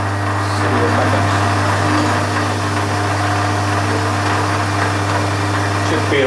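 The motor of an electric garden tractor runs at about 600 RPM with a slight wobble, giving a loud, steady low hum with a faint rattling vibration throughout.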